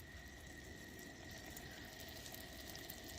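Melted food sizzles in a pan set over a camp stove flame at a stealth campsite, a faint, steady hiss and crackle with no voices.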